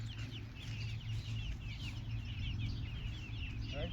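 Hens cluck and chatter steadily inside a bird box, several soft, overlapping calls over a constant low background hum, fairly close and moderately quiet.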